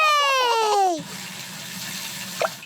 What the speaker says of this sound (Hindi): डैडी पिग गाड़ी धोने के लिए साबुन वाला गुनगुना पानी लाए।